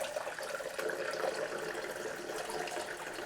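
A VEVOR seven-tier outdoor waterfall fountain with its pump running, giving a steady, even wash of cascading, splashing water throughout, with no voices.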